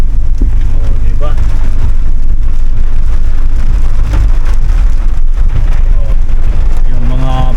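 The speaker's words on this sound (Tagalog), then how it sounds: "Lumalakas yung ulan." Heavy rain pours during a rainy motorcycle ride home, a loud, steady, dense hiss over a low rumble throughout, with someone talking over it.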